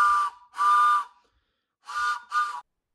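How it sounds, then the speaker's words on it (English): A homemade wooden train whistle cut from a scrap 2x2 blows four clear, breathy steam-style toots: two close together, a pause, then two more, loud and close with no other sound. "he built a train whistle"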